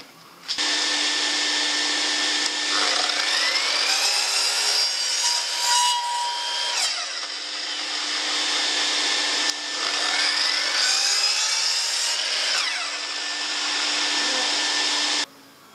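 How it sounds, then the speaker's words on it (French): An electric hand planer cuts across wood for a rear bumper build on a Suzuki Santana Samurai, a loud high whine with a steady motor hum that runs for several seconds, dips, resumes, then stops abruptly. "je vais prendre ma belle varlope, et puis je vais faire un truc bien plan"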